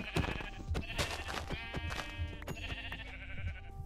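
Repeated close bleats from a Minecraft sheep, several wavering cries in quick succession mixed with soft game hit sounds, with no voices over them.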